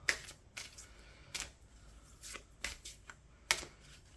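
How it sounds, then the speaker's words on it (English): Oracle cards being shuffled and pulled from a deck, a series of quick, soft riffles and flicks spaced irregularly, close up and quiet. "So let's pull some oracle cards for you."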